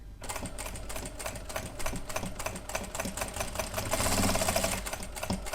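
Sewing machine lock-stitching the crotch seam of palazzo pants during a home repair, a steady rapid mechanical stitching rattle, close and continuous, swelling slightly louder near the end.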